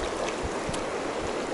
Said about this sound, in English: Absolutely gorgeous river.